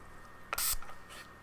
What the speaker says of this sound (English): Let me spray some on you.